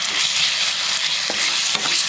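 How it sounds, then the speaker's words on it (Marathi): Wet spice paste fries in hot oil in a frying pan for a prawn samosa filling, giving a loud, continuous close-up sizzle with two brief scraping stirs. "त्यानंतर मी आपलं ओलं वाटण जे घेतलेलं आहे ते आपण ह्याच्यामध्ये प्रथम फ्राय करून घेणार आहोत."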